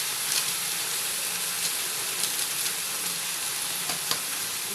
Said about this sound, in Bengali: দিয়ে মশলাটাকে একদম সুন্দর করে লাল লাল করে কষিয়ে নিতে হবে।